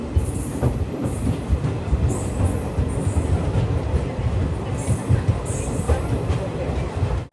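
The Kanchanjungha Express sleeper train, running from Badarpur to Agartala in Tripura near Dharmanagar, gives a steady, loud rolling rumble from inside the carriage, with continuous wheel clatter and occasional high squeals from the rails.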